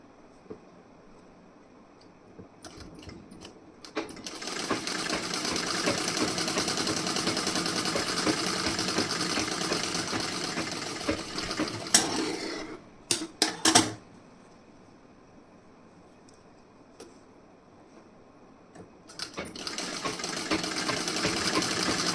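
A sewing machine runs in a long steady burst stitching tucks on the front panel of a wedding blouse, then stops with a few short clicks before whirring again near the end.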